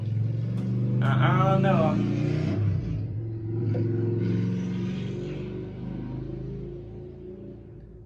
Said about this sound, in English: This dude has the loudest motorcycle in the entire freaking complex.